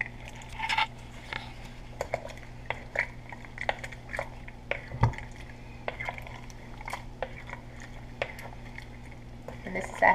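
A spoon stirs sugar into a jar of fermented sweet pickles, giving light scattered clinks and scraping taps against the glass at close range.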